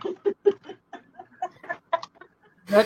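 A pet chicken clucks in a series of short, close, choppy bursts with uneven pauses, ending in a louder, longer squawk, heard alone.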